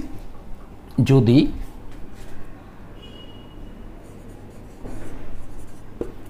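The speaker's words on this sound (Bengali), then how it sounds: "এখন দেখো আমি কি লিখছি" Hand writing on a board during a chemistry lecture gives faint scratchy strokes in short bursts, quiet and close, with a brief voice and a knock partway through.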